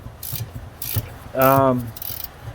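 Flex head ratchet working a bolt on a VW Kombi bus with a Type 1 engine, giving a few short metallic clicking bursts close by, with a faint voice in the background.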